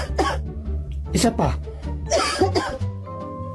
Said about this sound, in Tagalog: Umubo ka.